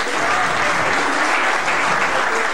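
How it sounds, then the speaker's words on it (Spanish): A crowd applauds a basketball player at an Olimpia Paraná championship awards ceremony, a steady, dense roar of clapping throughout. "un aplauso para el Seba"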